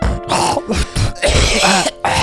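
Harsh, phlegmy coughing and throat clearing from someone with a cold, several rough bursts in quick succession, loud and close.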